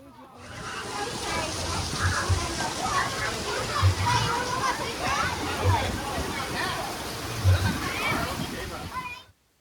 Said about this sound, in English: Here comes Rion down the twister